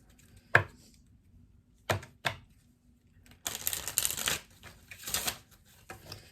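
Tarot cards are handled for a reading: a few sharp isolated snaps and taps of cards being pulled, then a longer riffling burst of shuffling, close and fairly quiet with no talking.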